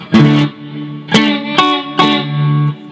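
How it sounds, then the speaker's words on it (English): Four separate electric guitar notes or chords ring through a FlyRig 5 pedal with reverb and a touch of distortion. Each attack is sharp and loud, followed by a short, bright decaying tail, with no voices. "I'm going to take the reverb down just a bit"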